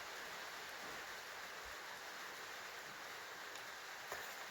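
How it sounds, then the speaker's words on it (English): Soft, steady hiss of rain falling outdoors in Swedish Lapland, faint and continuous with a few light taps, no voices. "Maybe you can hear it's also raining."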